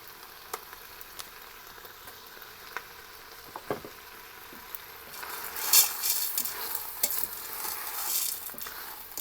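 Elbow macaroni is tipped into a pan of sizzling chickpeas and onions, with a low, steady frying hiss and occasional clicks, then a brief rattling rush as the pasta drops in, swelling into louder sizzle and stirring.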